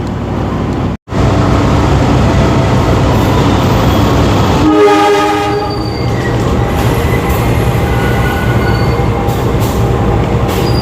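A passenger train on the Airlangga service, hauled by Indonesian locomotive CC 203-9806, rumbles loudly and steadily close by, with a long horn blast partway through and wheel noise carrying on throughout.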